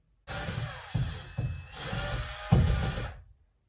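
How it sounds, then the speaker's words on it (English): A power drill whirs in bursts, revving and straining as it bites into material, with short pauses and jolts between pushes, close by. "So I don't have the right drill."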